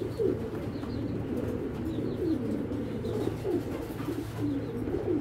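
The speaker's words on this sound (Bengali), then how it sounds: "এই দুইটা কবুতর কিন্তু জোড়া।" Racing pigeons, a bonded pair, coo steadily and close by in a soft repeating rhythm, with low murmuring calls overlapping throughout and no talking.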